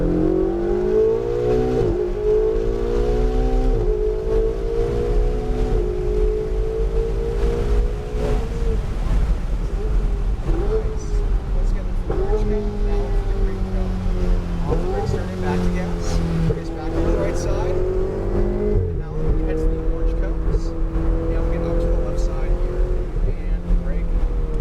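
A Ferrari accelerates down a straight after rounding cones, its engine note climbing repeatedly as it pulls through several gear changes. The sound stays loud and continuous over a rushing wind-like background.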